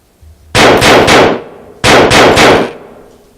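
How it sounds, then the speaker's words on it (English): Rifle fire played back through a loudspeaker: two rapid bursts of about three loud, sharp shots each, separated by a short pause, with a ringing reverberant tail in a large room. "The first one is a rifle and what it would sound like"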